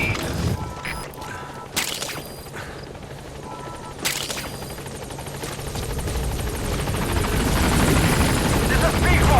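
In the Metal Gear Solid V video game, the Pequod helicopter arrives at a landing zone, its rotor thrum building steadily louder under sharp impact bangs and a radio voice speaking.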